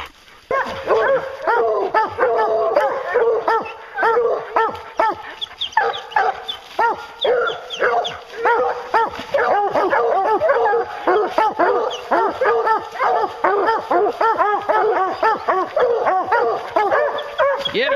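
Hunting hounds bark, yip and bay almost nonstop while chasing a bear through the woods, loud and close, with a handler shouting over them.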